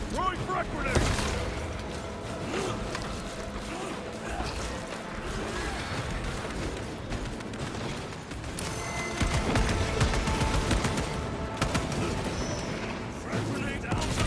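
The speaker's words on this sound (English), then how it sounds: "Throwing frag grenade." A frag grenade detonates amid a dense Warhammer 40K Space Marine 2 battle, with loud continuous gunfire, crashing impacts and booming blasts layered with music and voices throughout.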